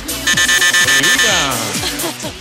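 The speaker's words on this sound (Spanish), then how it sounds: "Están tocando el timbre, Rito." A sharp electronic doorbell buzzer at a studio wet T-shirt contest show, sounding as one steady, slightly pulsing buzz of about a second, with voices talking over and after it.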